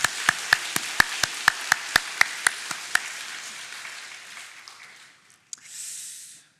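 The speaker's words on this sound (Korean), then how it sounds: "우리 응원의 박수 드리도록 하겠습니다" Sparse rhythmic clapping at a Sunday church service, about a dozen sharp evenly spaced claps from a few people that stop after three seconds, leaving quiet room tone.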